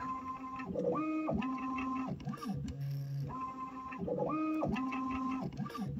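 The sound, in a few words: cartridge filling machine making adjustments, shaking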